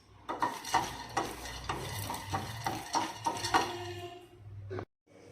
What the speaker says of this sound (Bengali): 6-7 মিনিট বাদামগুলো ভেজে নিব।